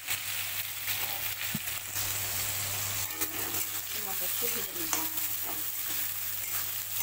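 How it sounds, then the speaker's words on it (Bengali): Cumin seeds, chopped onion and tomato frying in oil in a wok, a soft steady sizzle with occasional stirring scrapes, heard close up at a low level without talk. "কড়ায় তেল দিলাম, এখানে দিয়ে জিরে ফোড়ন দিলাম, সাথে পেঁয়াজ কুচি আর টমেটো কুচি দুটো দিয়ে দিলাম।"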